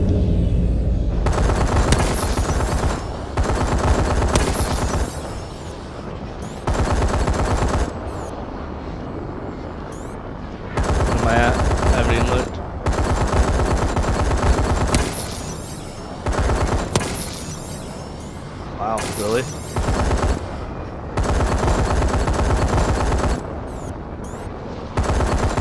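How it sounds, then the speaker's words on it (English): Gunfire in a shooter video game, with repeated bursts of automatic fire several seconds long separated by short pauses, loud and close, no talk. "I was shooting right next to you"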